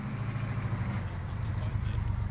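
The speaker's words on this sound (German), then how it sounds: "Sehr laut. Könnte ein Panzer sein." Low, steady rumble of a tank engine in a video game, a continuous droning hum with no breaks, heard alone at moderate loudness.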